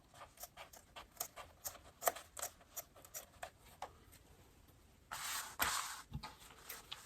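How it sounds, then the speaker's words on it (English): Scissors snipping through excess zipper on a fabric box bag: a quiet series of sharp, rhythmic cuts close by, followed by a brief rustle of handling. "I'm going to go ahead and cut my excess zipper."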